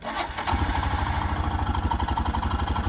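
A 2021 Royal Enfield Himalayan motorcycle engine starts and settles into a steady, loud, close idle with a regular low thumping rhythm.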